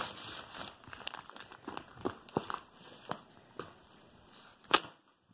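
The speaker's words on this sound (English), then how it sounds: "This is just the first layer of plastic. There's another layer of plastic over here." Plastic wrapping around a Zinus 12-inch green tea memory foam mattress crinkles and tears in scattered bursts, with a sharper crackle near the end, close by and with no talk.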